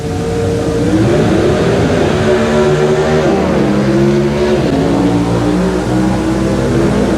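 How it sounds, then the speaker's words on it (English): A Gapp and Roush Ford Pinto Pro Stock drag racer accelerates hard down the strip, its loud engine howl climbing through repeated gear shifts with rising and dropping pitch, continuous and close, with no talk. "His competition, Ken Dondaro at the wheel of the Gapp and Roush Ford Pinto"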